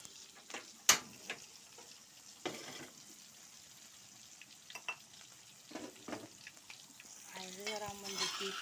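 Ground spice paste fries in a pan for a Javanese sayur asem, crackling softly with scattered sharp pops and scraping stirs, quiet and close, swelling into a denser sizzle near the end.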